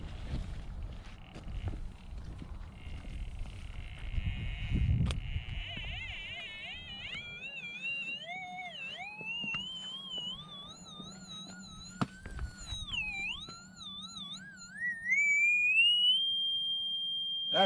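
A Geo Pro 3D treasure locator in the New Mexico outdoors emits a wavering electronic tone that warbles and rises in pitch, climbing to a steady, sustained high peak at the end, heard over wind noise and handling sounds.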